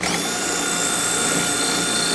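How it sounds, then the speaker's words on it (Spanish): A regular cordless drill, used without its hammer function, drills a hole for Tapcon screws while installing deck railings, giving a steady, loud, continuous whine that runs unbroken and alone throughout. "Usaré un taladro regular para demostrarles. Es solo un taladro inalámbrico."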